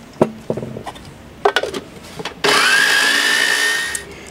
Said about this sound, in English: put the kale in the food processor, like so, and add about a tablespoon or two of milk